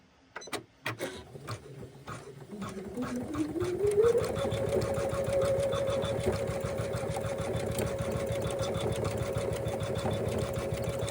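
An embroidery sewing machine starts up after a bobbin adjustment and settles into rapid, steady stitching, a close, continuous mechanical whir with a fast needle rhythm and a held tone.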